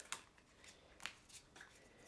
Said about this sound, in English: then I shuffle that deck